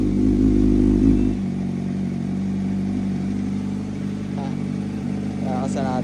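A CFMoto 500SR VOOM motorcycle fitted with an electronic exhaust valve idles after a cold start, a steady low engine drone that is louder for the first second and then settles. Someone talks briefly near the end.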